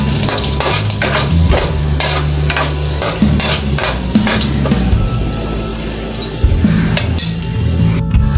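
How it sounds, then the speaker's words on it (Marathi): Mustard seeds, cumin and finely chopped garlic sautéing in a pan for a green cluster bean dish, with steady close sizzling and clinking, scraping stirs of a utensil against the pan throughout. "राई, जिरा, आणि बारीक कापलेला लसूण चांगलं परतवून घेऊया"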